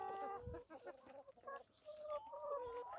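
Chickens clucking close by in short, uneven bursts, with a rooster's drawn-out call near the end.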